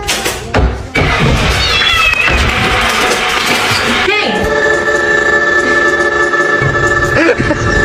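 Cat meowing, with several loud drawn-out meows and yowls over thumps and background noise, close to the microphone, and a person talking at times.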